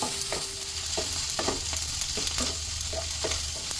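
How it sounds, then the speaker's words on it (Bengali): Egg and mixed vegetables stir-frying in butter in a pan for egg masala pasta, with a steady sizzle under repeated sharp scrapes and clacks of a spatula stirring, close and continuous with no talk. "এবার আমি সব সবজির সাথে ডিমটা ভালো করে আরও একবার ফ্রাই করে নেব।"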